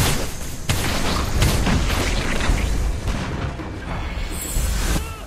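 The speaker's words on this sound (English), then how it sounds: "Your team destroyed a turret!" A turret explodes in Mobile Legends: Bang Bang during a match. A dense, loud roar of booms and crackling blasts runs continuously under game effects for several seconds.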